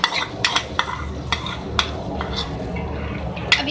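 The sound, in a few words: whisking yogurt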